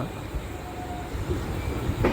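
Netravati Express pulling away from Kundapura station: a steady rolling rumble of wheels on rail with faint rhythmic clatter, close and continuous, and a brief squeal near the end.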